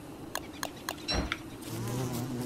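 Angry bee from Don't Starve Together, a few sharp clicks and a brief burst before a low steady buzz settles in and holds near and fairly loud.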